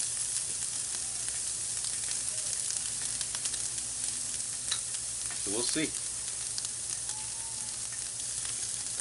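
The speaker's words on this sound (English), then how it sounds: "A nice sizzling sear." Boneless short ribs sear on a Lodge Sportsman's cast iron charcoal grill with a steady, close, continuous sizzle and crackle, while a voice speaks briefly over it.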